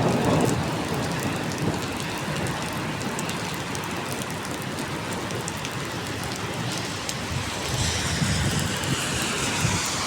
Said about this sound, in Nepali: मौसम बिग्रेर पानी परिरहेछ